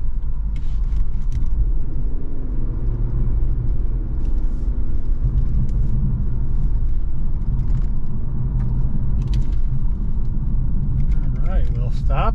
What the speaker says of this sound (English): See how we take off 0 to 60 in 3, 2, 1.